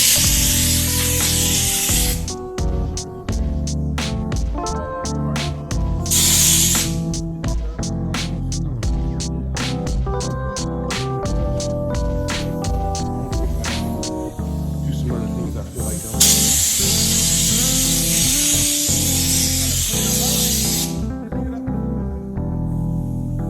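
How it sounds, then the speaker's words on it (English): A blower tool blasts air to clear dust off a van body before body kit paint work, sending long, loud hissing bursts separated by gaps full of rapid clicking and rattling, all close to the source. "Right now I'm trying to get everything blown off with a blower tool."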